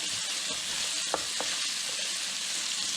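Onions soften in a pan for a Zimbabwean dovi stew, giving a steady, even sizzle of frying throughout, with a couple of faint clinks near the middle and no talking.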